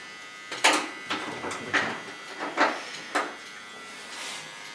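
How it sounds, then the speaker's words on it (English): Fine electric hair clipper trimming woolly under hair on a curly red-coated dog, a soft steady buzz broken by several short louder passes as the blade moves through the coat, close and alone. "Get myself a fine clipper."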